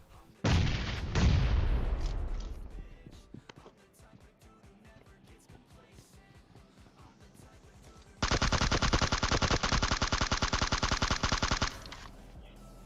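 Gunfire in the mobile game PUBG Mobile: a loud opening burst of rapid shots, scattered single shots, then a long, sustained fast automatic volley before it stops.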